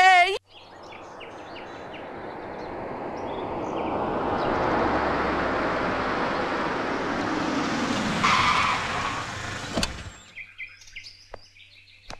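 A car pulls up and skids to a halt with a long, loud tire screech that swells and holds for several seconds before cutting off, with faint bird chirps at the start and end, set in a Hindi film comedy scene.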